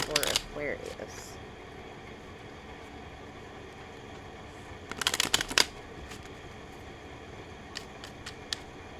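Oracle cards with a fairy dust theme being shuffled, a soft papery riffle at the start and a brief louder flurry midway, faint and close against a quiet background.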